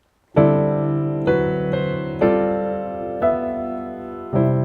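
Piano chords sound one after another, each struck and left ringing, a slow sequence of five or six chords shifting toward a resolving suspended-chord ending.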